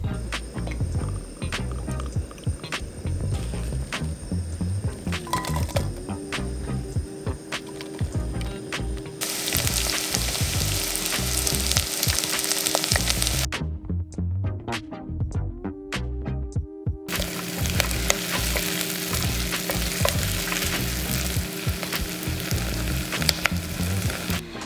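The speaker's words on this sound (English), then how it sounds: "So let's go ahead and add some oil to this pot and start caramelizing some onions." Onions caramelizing in oil in a pot for a Korean-Japanese chickpea curry: a steady, close frying sizzle that runs throughout, with stirring scrapes and clatters and a hiss that swells louder partway through.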